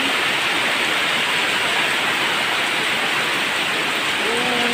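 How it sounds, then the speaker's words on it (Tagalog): Steady, dense rain hiss fills the scene without pause, a broad wash of falling water with no voices, during heavy rain with rising floodwater. "Wala pa matahan ang ulan"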